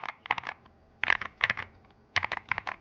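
Typing on a High Ground keyboard fitted with Basecamp 65 Plus internals, with better switches and sound dampening: close, crisp clusters of keystrokes in short bursts separated by brief pauses, no voices.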